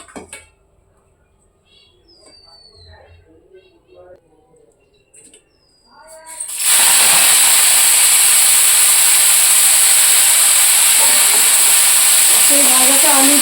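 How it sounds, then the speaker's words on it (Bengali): Titkona flowers go into hot oil in a home kitchen pan: faint clinks and rustles, then a sudden loud, steady hissing sizzle that carries on to the end. "এটা আজকে ভাজবো।"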